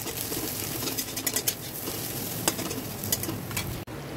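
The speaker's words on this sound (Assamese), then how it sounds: "ৰঙচুৱা হোৱালৈকে ভাজি ল'ম।" Khorisa, fermented bamboo shoot, fries with salt and turmeric in a pan, giving a steady close sizzle with occasional light stirring clicks and scrapes, and no talking.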